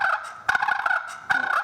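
A vintage turkey call worked by hand imitates two turkeys fighting, giving short, harsh, rattling gobble-like bursts in two quick clusters, close and loud with no talking.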